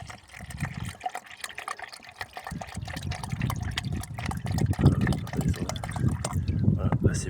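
Water poured into the heating system of a Peugeot 308, a steady close gurgling trickle that swells toward the end, with voices talking over it.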